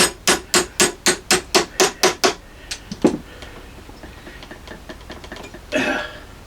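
A hammer strikes a metal punch about ten times in a fast, steady rhythm to drive pins out of wood, loud and close, followed by a few scattered lighter taps and a scraping rub.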